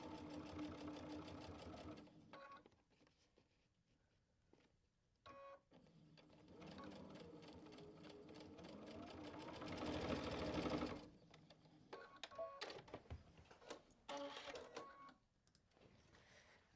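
A sewing machine stitches a quilted backpack panel in quick rattling bursts separated by pauses, close up and fairly quiet, with one longer run of stitching near the middle.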